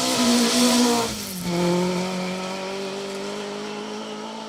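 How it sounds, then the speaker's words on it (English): A Mark 1 rally car pushes hard along a stage at the Border Counties Rally in Ireland, its engine loud and close, dropping pitch on a gear change and then droning steadily as it pulls away. "pushing on in that Mark 1. It's a good looking car, that one. Sounds great."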